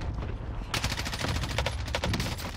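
Fast automatic gunfire in the Warzone video game, loud close bursts of rapid shots crackling over one another for a couple of seconds.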